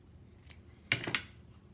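Scissors cut through cotton fabric in a sewing project, with two quick crisp snips close by in a quiet room, after a faint earlier click.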